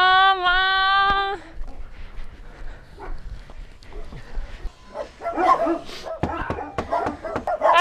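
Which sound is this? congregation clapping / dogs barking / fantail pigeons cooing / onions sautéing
dogs barking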